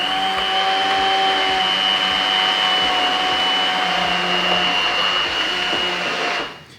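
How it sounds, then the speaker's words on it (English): A blender whirs steadily at high speed, whipping a hazelnut praline mixture with cold milk into a thick glossy emulsion, its loud even drone running about six seconds before cutting off. "we want to blend it until it's a beautiful, thick and shiny, glossy emulsion"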